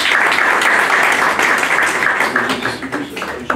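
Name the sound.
audience applause at gallery event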